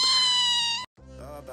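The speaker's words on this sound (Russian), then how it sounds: "Чего ты, моя хорошая, мяукаешь?" Kitten giving two close, loud meows, a long drawn-out cry followed after a brief gap by a shorter one, indoors.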